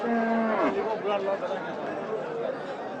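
Cattle mooing at a crowded cow market for meat cattle, a long low moo near the start amid steady buyers' and sellers' chatter and crowd babble.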